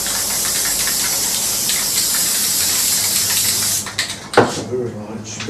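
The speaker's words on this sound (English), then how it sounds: "I'm going to lightly spray" An aerosol can spraying adhesive in light coats onto a joint for a build, a steady close hiss lasting nearly four seconds before it stops, followed by a few clicks and handling sounds.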